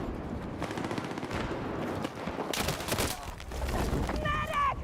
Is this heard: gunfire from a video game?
yes